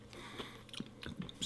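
Someone bites into and chews a sweet Korean cinnamon snack, producing several close, crisp crunches spread irregularly over a short moment, fairly quiet, with no talking.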